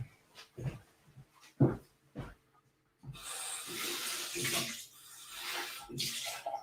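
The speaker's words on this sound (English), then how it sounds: "Might just rinse my jigger." Running water streams steadily from a tap while a cocktail jigger is rinsed, close and moderately loud, after a few brief knocks and clinks at the start.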